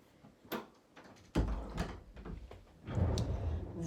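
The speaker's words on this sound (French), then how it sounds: "Je vais fermer la porte parce que là, il va y avoir un peu de bruit." A door being closed indoors, a few knocks and rattles leading to a firm thud near the middle, followed by a low rumbling handling noise, fairly close and loud with no talk.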